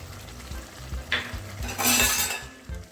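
Egg curry masala with beaten yogurt and chilli powder stir-fried in a pan, with a continuous oily sizzle under scraping spatula strokes and a louder burst of frying midway, close up.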